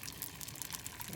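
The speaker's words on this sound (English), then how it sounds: "Pour the egg in." Beaten eggs pour into a pan for an omelet, a soft continuous liquid splash and sizzle-like hiss running evenly for about a second, close and steady with no talk.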